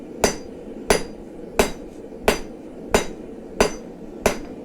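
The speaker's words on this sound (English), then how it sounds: "all these hammer hits are very square" A hammer strikes metal on an anvil set on a new stand, seven sharp ringing blows at an even, unhurried pace, close and clear with no talk.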